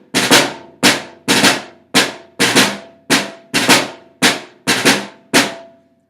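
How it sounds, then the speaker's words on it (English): Snare drum drag taps: a steady series of about ten crisp, loud strokes, each a quick grace-note buzz followed by a firm tap, played alone. "So those are drag taps."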